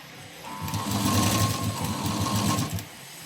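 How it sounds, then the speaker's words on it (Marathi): A sewing machine runs in a steady close burst, stitching piping into a round neckline, with a rapid whirring needle rhythm for about two seconds before it stops. "एकदम खाचेमध्ये शिलाई द्यायची, अजिबात लांबून शिलाई द्यायची नाही"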